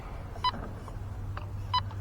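A Hobbywing Fusion ESC in a TRX-4 RC truck, near the end of its battery, gives two short electronic beeps about a second apart over a low, steady background hum.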